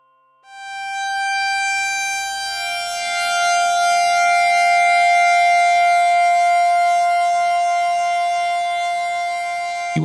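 A bright, buzzing modular synthesizer oscillator tone with feedback turned fully up holds one steady pitch, rich in harmonics, sustained loudly for about ten seconds without a break.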